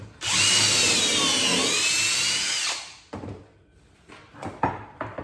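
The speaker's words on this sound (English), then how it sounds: "and then stand it up and drill it." A power drill bores into a fireplace mantle board, a loud, steady whining grind lasting a few seconds, then stopping, followed by scattered knocks and clunks of handling wood.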